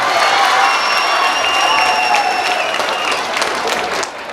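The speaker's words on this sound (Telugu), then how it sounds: "కనీసం చప్పట్లు కూడా కొట్టలా." A large audience at a school's New Year anniversary celebration in Ongole applauds loudly, a thick sustained roar of clapping with some crowd noise that eases slightly toward the end.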